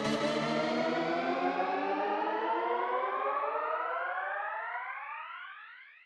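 A build-up riser effect made with Diffuse: a layered tonal sweep that climbs steadily in pitch for several seconds, then thins and fades out at the end.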